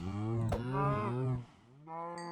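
A Minecraft cow gives a loud, close moo when struck in the game, a drawn-out harmonic lowing that fades and is followed by a second, shorter moo with a faint click, with no talk over it.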